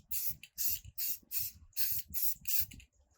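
Bursts of spray paint hiss out over a tumbler being hydro dipped, seven loud, close, evenly spaced sprays of about half a second each with short gaps, no talking.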